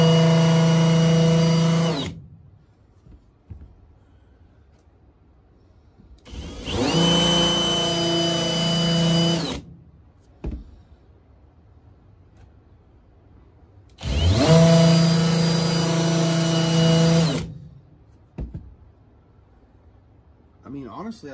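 A drill spins a Harbor Freight countersink bit to reshape old holes in plywood in three loud bursts of whining motor and cutting, each a few seconds long, separated by quiet gaps.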